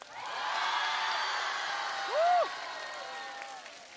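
A studio audience at a televised singing show applauds to welcome singer Roy Wang onto the stage, a steady moderate wash of clapping with a brief musical tone rising partway through.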